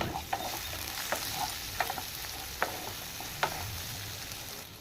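Chopped large onions cooking in a pan with light sizzling frying throughout and a few brief stirring clinks and scrapes at intervals, with no talk.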